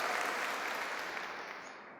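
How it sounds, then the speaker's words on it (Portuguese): A church congregation at a Sunday Mass claps briefly, a soft, somewhat distant wash of applause that tapers off within about two seconds. "uma salva de palmas a você"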